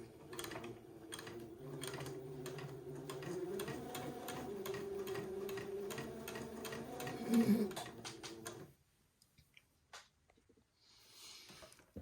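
A sewing machine runs rapid, even stitches as it sews basting lines along a fabric neckline, a rhythmic mechanical patter for several seconds before stopping, then quiet handling noises.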